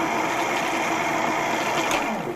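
A small electric motor on a homemade windmill generator setup runs at a steady, high-pitched whine with a buzzing edge, close and loud throughout, with no one talking over it.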